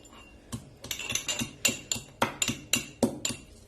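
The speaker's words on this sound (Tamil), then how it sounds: "இப்ப இந்த மாதிரி ஒரு இடிக்கிறதுல போட்டு நம்ம இதை இடிச்சுக்கலாம்." Ginger and garlic pounded in a mortar for ginger garlic soup give a run of about a dozen sharp, close knocks at a fairly steady pace, each a hard thud with a slight metallic clink.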